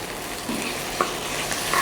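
Beef sizzles as it is stir-fried in a pan for nasi goreng, a steady close crackle and hiss with a few light scraping stir sounds.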